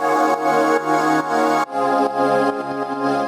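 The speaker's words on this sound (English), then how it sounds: "I took that note and put it into a regular sampler, and I played out the chords that I have above" Sustained synthetic chords played on a sampler from a single sampled note, with rich, bright harmonics in a series of evenly spaced, pulsing chord changes, loud and alone with no voices.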